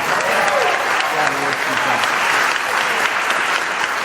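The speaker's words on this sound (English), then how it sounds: "Let's give her a round of applause." Steady crowd applause fills the room at a community event at CSU Turlock, dense and even throughout, with voices faintly murmuring underneath.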